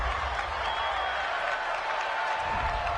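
A home crowd in a football video game roars steadily after a penalty call, a dense wash of cheering and applause holding at an even level for a few seconds, with a game commentator's voice faintly underneath.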